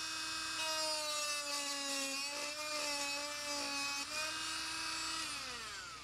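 A spinning paper disc cuts through a 1/4 inch acrylic rod, making a high, whining, tonal screech with shifting pitch that holds steadily for several seconds and dips as the cut finishes, loud and close without talking.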